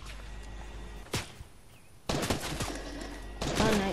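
Gunfire in Fortnite, including a sniper: a few sharp, separate shots in the open, then a louder cluster of cracks and impacts over a faint steady background, with no voices.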